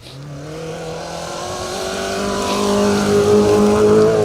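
A Peugeot 205 rally car runs a stage of the Plains Rally, its engine note climbing steadily as it accelerates and draws nearer, growing louder throughout with no voices over it.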